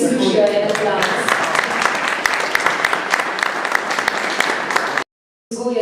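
Guests at a pre-election debate receive sustained applause from the audience, dense rolling clapping throughout that cuts off abruptly near the end before resuming briefly.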